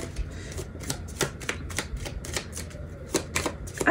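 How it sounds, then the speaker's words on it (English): A deck of playing cards being shuffled up close, with a run of crisp, rapid riffling clicks and flutters that come in short uneven bursts and stop and start. "I hate shuffling cards because it's like they act like they don't want to like come apart."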